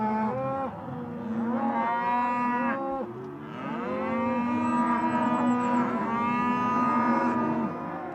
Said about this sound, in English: bring the cattle into this small pen, close the gate